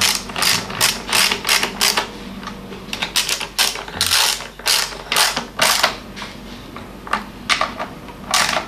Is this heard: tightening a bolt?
yes